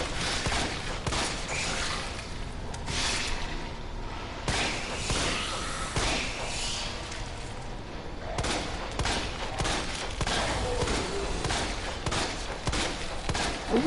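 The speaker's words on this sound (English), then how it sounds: "use my pistol to take that thing out" Gunfire from a handgun in Resident Evil 2 Remake, a dense run of loud, repeated shots with sharp impacts filling the whole stretch.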